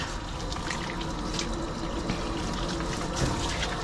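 Running water rinses soap off a dog whose heavy matting has been shaved down, a steady close splashing and pouring with no voices.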